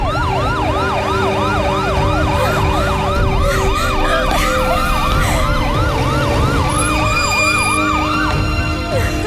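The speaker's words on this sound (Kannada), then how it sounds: "ನಮ್ದೇನ್ ಆಂಬುಲೆನ್ಸ್ ಅಲ್ವಾ?" A loud ambulance siren wails in a fast, repeating up-and-down pattern for the whole stretch, with road traffic rumbling underneath and no talk.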